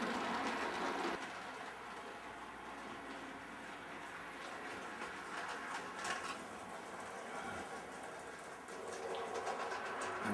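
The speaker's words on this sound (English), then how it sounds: "This is my very first Fleischmann drop train." Old Fleischmann model train running on its track, a continuous quiet whirring motor hum with faint rhythmic clicking of wheels over rail joints, close but soft throughout.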